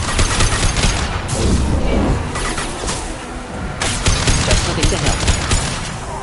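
Gunfire during a firefight in the Mass Effect 2 video game: dense, loud bursts of shots and blasts with booming impacts, under a brief line of game dialogue.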